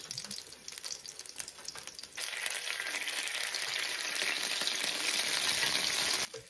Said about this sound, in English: fry the okonomiyaki for 2 minutes